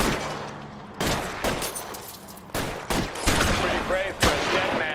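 Gunfire in L.A. Noire comes as loud, sharp bursts of shots in irregular volleys, several close cracks spaced across the stretch with a rumbling shootout backdrop between them.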